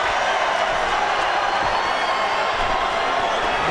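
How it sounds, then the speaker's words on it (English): Crowd noise at a UFC event, Nate Diaz vs Jorge Masvidal, heard as a steady, dense roar of cheering from a large arena audience that fills the whole stretch without letup. "Listen to the crowd."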